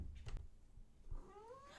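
A cat gives a faint, short meow near the end, rising and wavering, after a few soft bumps and rustles in a quiet room.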